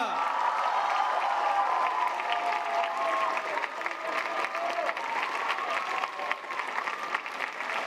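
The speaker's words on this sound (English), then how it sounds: "Can we give him a huge round of applause and cheer?" A crowd at a Catholic junior college gives steady applause and cheering for Pope Francis's visit, a dense wash of clapping that stays level for about eight seconds, with faint voices mixed in.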